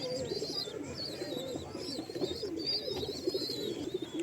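Pigeons cooing in nest boxes, soft repeated throaty coos layered over one another, faint and fairly close, with a few higher chirps and no talk.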